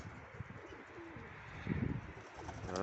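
A wild pigeon coos in soft, low, throaty rolls that grow louder near the end, close by, over a quiet outdoor background with faint chirps and no talking.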